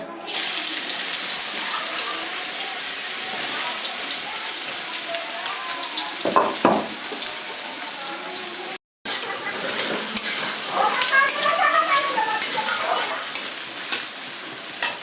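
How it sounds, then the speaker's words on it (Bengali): Chopped onions sizzle loudly in hot oil with a steady hiss, briefly interrupted by a short gap, with occasional stirring scrapes. "পেঁয়াজটা ভাজা হোক।"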